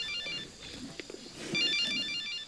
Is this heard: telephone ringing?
yes